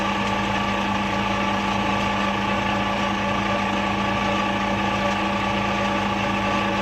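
A lathe turning at about 1100 RPM while machining drip tips gives off a steady, loud, unbroken mechanical hum with a constant pitch and no talking.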